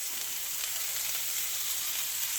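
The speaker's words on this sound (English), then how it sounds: "And I'm going to saute my onions." Onions sautéing in olive oil in a pan over medium heat, giving a steady, close sizzle and hiss that runs evenly throughout with no talking.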